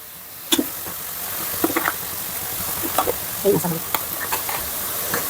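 Prawns fry in a pan for gongura prawn curry, a soft steady sizzle broken by occasional scrapes and stirring clatters, moderately close and continuous.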